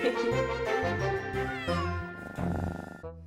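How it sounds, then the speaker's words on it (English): A cartoon kitten meowing in bright, drawn-out cries over cheerful background music, loud and close, with several meows in a row. "Look how happy the kitten is."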